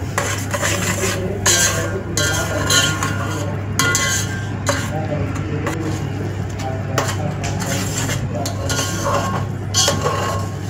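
A spoon scrapes and stirs thick crab curry masala in a cooking pot, with steady clinking against the metal and a soft sizzle running continuously underneath.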